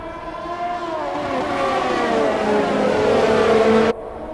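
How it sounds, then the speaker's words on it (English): Formula 1 cars in the F1 2020 video game racing through the final corner of the Abu Dhabi Grand Prix, a loud sustained engine whine with pitch sweeping and layering before cutting off abruptly near the end. "As they go through the final corner now, and it is for certain Max Verstappen wins the Abu Dhabi Grand Prix ahead of Sebastian Vettel and Lewis Hamilton"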